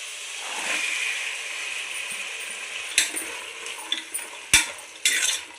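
Onions fry in a pan of oil for veg biryani, a steady close sizzle broken by sharp metallic clinks and scrapes as a spoon stirs against the pan.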